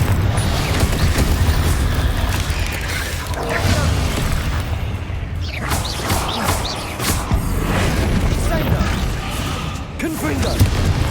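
Hogwarts Legacy spell combat with repeated Confringo fire blasts and other spells, a dense run of booming impacts and crackling bursts, with a voice speaking over the fight.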